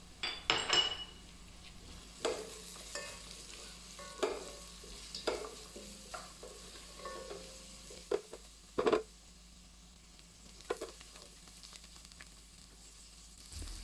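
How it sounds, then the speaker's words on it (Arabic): Kabsa ingredients, including chopped chili, being stirred in a cooking pot: repeated scraping strokes and occasional metallic clinks from a utensil, over a faint background sizzle, no voices. "رح نحرك المكونات مع بعضها لمدة 5 دقائق."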